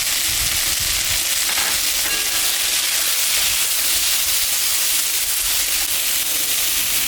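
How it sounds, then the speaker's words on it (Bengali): Continuous loud sizzling and crackling of a curry frying in a hot pan with salt and turmeric, a dense steady hiss with occasional stirring scrapes. "তরকারিটা ভাজা ভাজা হয়ে গেছে"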